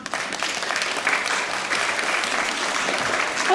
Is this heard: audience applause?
yes